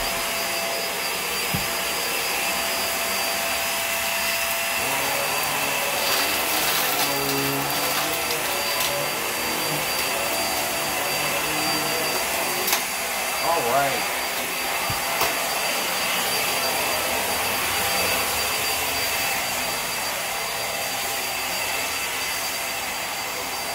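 A Hoover React Powered Reach vacuum cleaner runs steadily throughout, its motor giving a constant loud whine with brief bumps and rattles as it is moved, with no talk over it.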